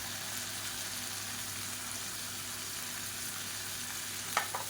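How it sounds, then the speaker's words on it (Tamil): Drumstick leaves and coriander sauté in a pan for chutney, giving a soft, steady sizzle at low volume, with a small clink of a utensil near the end. "இது எல்லாத்தையும் நல்லா வதக்கி விட்டுக்கலாம்"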